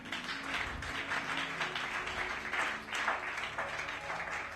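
A church congregation claps and cheers in praise at a service, with steady, dense applause sustained throughout and no speech over it.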